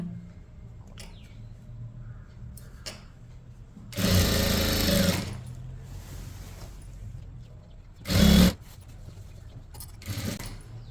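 A sewing machine stitches a chudithar top in two loud bursts, one longer and one short, with a brief softer run afterward and quiet pauses between.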